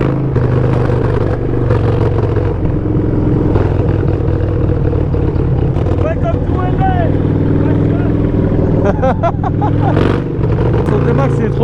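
A Yamaha T-Max scooter billed as extremely loud roars continuously at close range with a heavy, rumbling engine tone, while voices talk over it.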